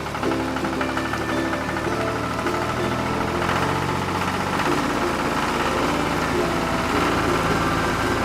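A tractor-aeroplane in a cartoon story runs with a continuous, dense engine drone and rattling vibration, steady and fairly loud throughout, with faint background sounds layered beneath.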